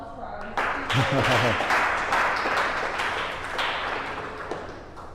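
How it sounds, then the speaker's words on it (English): Audience applause at the close of a startup founders' SEO workshop, a burst of clapping that rises after a second and carries on steadily, with a voice talking over it near the start. "Have a round of applause for"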